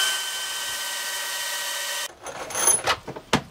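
A power drill whines steadily while driving bolts into a lumber picnic table, then stops, followed by a few clunks and knocks of handling up close.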